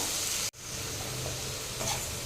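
Tomatoes sauté in a hot pan with salt, a continuous close sizzle with a brief break, then steady frying and faint stirring.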